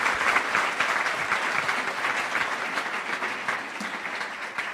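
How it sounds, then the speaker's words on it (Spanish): Audience applauding at a forum: dense, sustained clapping from a sizable crowd, steady and fairly loud throughout with no speech over it. "Yo les pido un aplauso para Leila."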